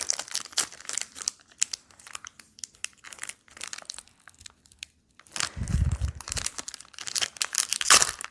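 Plastic and cardboard packaging of a Lorcana trading card Gift Set crinkles and tears as it is opened, with bursts of close crackling and ripping, a louder crunchy stretch near the middle and a sharp rustle at the end.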